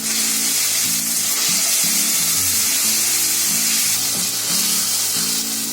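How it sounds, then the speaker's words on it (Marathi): Tomato and ginger-garlic paste sizzles steadily in a hot pan while being cooked for a malai kofta curry, a continuous close frying hiss with no pauses and no voices. "आता ही पेस्ट आहे ना आपल्याला चांगली फ्राय करून घ्यायची आहे"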